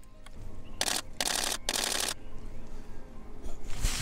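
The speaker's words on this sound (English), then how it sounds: "To the shutter of this 1DX." Canon 1DX DSLR shutter firing in three rapid bursts of sharp, loud mechanical clicks close to the camera, with a quieter click just before them and another near the end.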